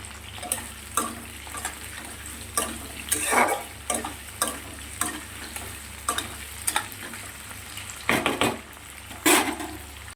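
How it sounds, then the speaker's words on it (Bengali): Soybean chunks frying on high heat in a pan, with a constant sizzle broken by repeated scraping stirs and clinks of a utensil against the metal. "বেশ ভালো করে লাল লাল করে ভেজে নেব কিছু সময়ের জন্য।"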